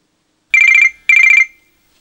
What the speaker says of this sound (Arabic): رد على التليفون